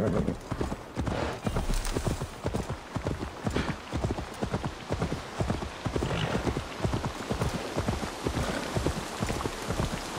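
A horse's hooves clip-clop in a steady, rapid rhythm through pattering rain in Assassin's Creed Valhalla, continuing evenly and close throughout.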